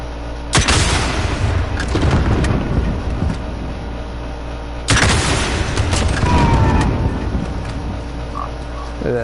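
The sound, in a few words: explosion in a video game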